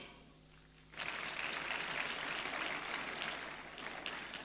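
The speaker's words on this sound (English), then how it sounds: "please, let's applaud that." Audience applause at a tech conference event bursting in after a quiet moment, a steady wash of many clapping hands at moderate distance that carries on to the end.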